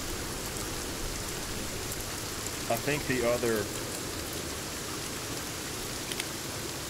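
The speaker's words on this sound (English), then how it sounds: "It's just, it's so loud with the rain." Heavy rain in the video game Sons of the Forest, a loud, steady hiss heard close and continuous throughout, with a person's brief speech partly masked by the downpour.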